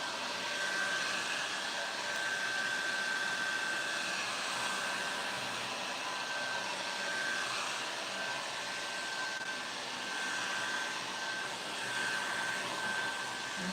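A hair dryer blows steadily on wet chalk-style paint on a thrifted upcycled furniture piece, a loud, continuous airy whir with a faint high whine that holds for the whole stretch without pause.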